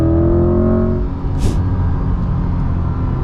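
A 2020 Corvette C8 Z51 engine with stock exhaust rumbles deep and loud at close range, a steady throaty growl with a slight rise in revs, and no voices.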